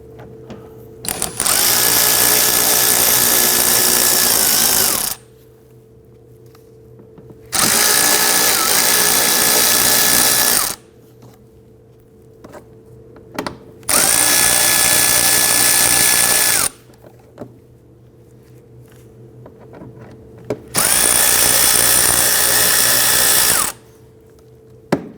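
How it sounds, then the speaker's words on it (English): Four long bursts of a power drill driving out T25 Torx screws along the fender liner of a 2009-2017 Volvo XC60 front bumper, each whine lasting a few seconds with quiet pauses between, close and loud. "remove the T25 Torx bit screws running down the fender liner attaching"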